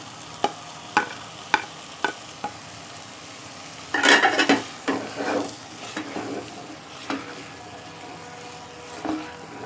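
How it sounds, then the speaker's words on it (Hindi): Okra tipped into a pan of cooked-down tomato masala, with a few sharp utensil taps on the pan, then a burst of sizzling and stirring, followed by softer scattered clinks and scrapes. "अब इसमें हम ये भिंडियाँ शामिल कर देंगे।"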